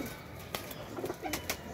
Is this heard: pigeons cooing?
yes